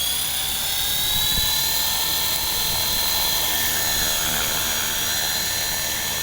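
A KDS 450 radio-controlled helicopter spins up close by, its rotor and motor producing a loud, steady high-pitched whine that holds and gradually rises, without any talking.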